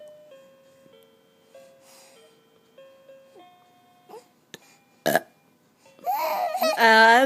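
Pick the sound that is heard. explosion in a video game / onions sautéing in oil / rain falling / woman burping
woman burping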